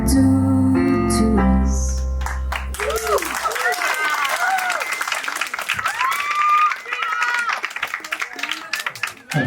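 Wedding guests applauding at Anna and Richard's ceremony: music fades out, then a crowd of many hands claps steadily and fairly close, with occasional whoops and voices mixed in.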